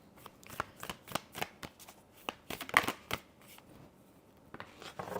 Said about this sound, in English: Let's get one more card out.